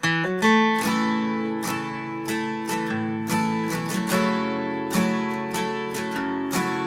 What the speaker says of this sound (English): I had a cool chord progression and lick, which sounds like this.